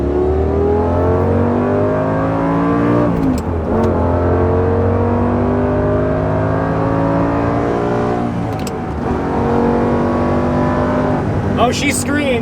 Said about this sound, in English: So we're gonna get a proper acceleration again now.